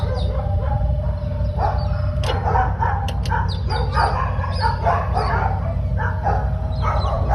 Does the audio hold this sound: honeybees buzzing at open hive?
no